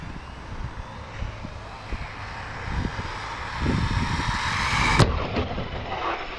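A Team Corally Syncro 4 RC car motor run at full throttle outdoors, a rising high-pitched electric whine over wind and rumble, building to a peak and cutting off abruptly, with no talking.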